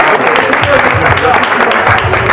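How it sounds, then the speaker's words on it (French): A crowd at a hip hop freestyle dance battle final applauds itself, loud sustained clapping with a low rhythmic pulse from music underneath. "vous pouvez vous applaudir"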